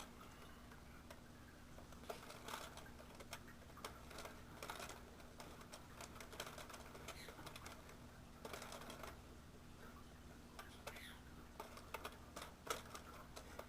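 An Innovations knitting machine knits a panel, giving faint, steady ticking and clicking from the carriage as it travels, with a low hum underneath and no voices.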